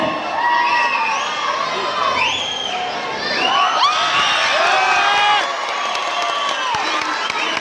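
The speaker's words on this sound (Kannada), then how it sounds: "ಪ್ರೇಕ್ಷಕರ ಚಪ್ಪಾಳೆ ನೋಡಿ." A loud, dense crowd of spectators at a kushti wrestling bout cheers, shouts and whoops continuously, with high excited voices rising and falling and some clapping mixed into the roar.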